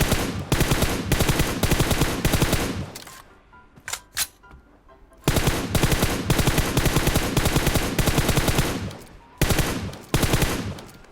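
Rapid automatic gunfire in PUBG Mobile, loud and close, fired in long sustained bursts with a short quiet gap and a few isolated shots before the firing resumes.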